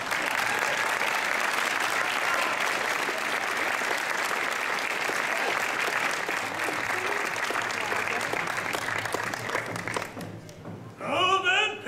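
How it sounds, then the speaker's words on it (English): An audience at the Gen Con costume contest cheers and applauds in a loud, dense, sustained wave that fades near the end before a voice speaks over it. "give her a big cheer to embarrass her even more"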